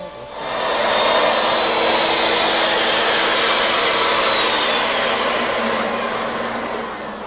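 Wood lathe turning a wooden salad bowl, cutting from the center outward: a loud, continuous broadband whooshing and scraping hiss that holds steady for about seven seconds, close by, with no voices.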